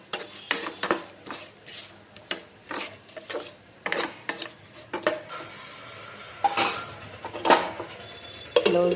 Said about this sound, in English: Mix them all.